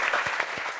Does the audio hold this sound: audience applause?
yes